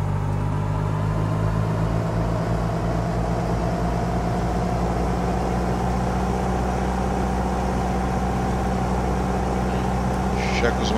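A Cessna 172 engine runs up in a flight simulator game, giving a continuous, loud droning hum with a steady low pulse that holds unchanged throughout.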